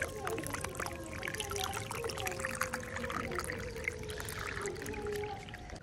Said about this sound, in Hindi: ये देखिए थोड़ा थोड़ा सा पानी आ रहा है।